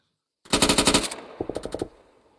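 Machine gun fire in the military game Arma 3, two loud rapid bursts: roughly eight quick shots, a short pause, then about seven more, ringing out briefly afterward.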